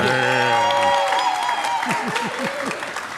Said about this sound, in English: Round of applause for being here